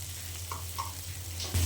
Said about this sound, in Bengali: সঙ্গে আরও কিছুক্ষণ ভালোভাবে নেড়ে চেড়ে মিশিয়ে নিচ্ছি